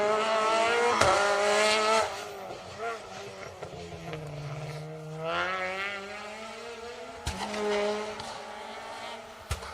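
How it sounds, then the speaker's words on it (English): Renault Clio 3 rally cars on an asphalt rally stage, engines revving hard and changing pitch as they pass and shift, with a commentator speaking over the engine noise throughout. "They do sound good, don't they, those Clio 3s."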